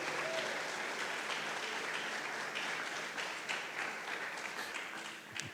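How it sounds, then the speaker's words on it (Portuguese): A church congregation claps together in a continuous, even burst of applause, moderately loud and filling the space without letting up. "Você pode aplaudir a Jesus nessa noite?"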